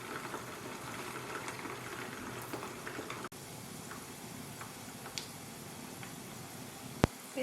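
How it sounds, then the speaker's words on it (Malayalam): Fish pieces fry slowly in oil over a low flame for fish pickle. A soft, steady bubbling sizzle runs throughout with a few small pops and one sharp click near the end. "അങ്ങനെയാണെങ്കിൽ ലോ ഫ്ലെയിമിലിട്ട് ഫ്രൈ ചെയ്തെടുക്കാം"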